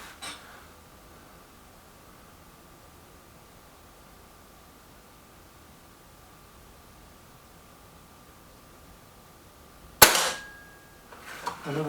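A single sharp air rifle shot from a Kral Puncher Breaker fires near the end after a long quiet stretch, a loud close crack followed by a faint pellet impact.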